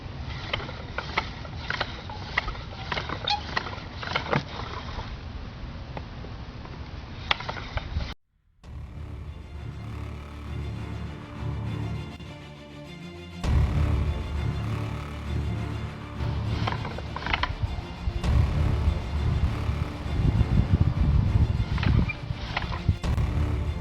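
A pump drill spins a spindle against a wooden board for friction fire, producing repeated rhythmic grinding and rubbing strokes that pause briefly, then resume with a heavier, denser churning.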